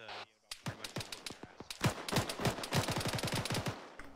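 Rapid bursts of automatic gunfire from a squad laying down a base of fire in the ArmA 3 military game, many sharp overlapping shots in a fast, uneven rhythm, loud and close, with some voice underneath.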